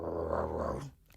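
A person imitates a dog's low growl in a short, rough, throaty rumble lasting about a second, close and fairly loud.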